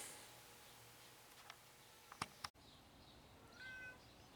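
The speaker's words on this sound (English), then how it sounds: "I hear one of my cats is meowing big time out here." A house cat meows faintly from somewhere away from the microphone, a short rising call near the end, after a few sharp clicks and ticks in a quiet room.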